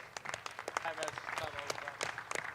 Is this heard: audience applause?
yes